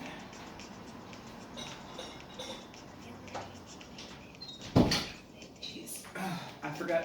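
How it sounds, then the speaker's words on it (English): A door closes in a city home with a single fairly loud thump partway through, followed by faint clicks and shuffling against a steady backdrop of urban noise. "let me close the door."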